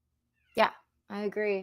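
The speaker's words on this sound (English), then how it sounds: "cat meowing outside my door" A cat meows outside a door: one short, fairly close meow, followed moments later by a person talking.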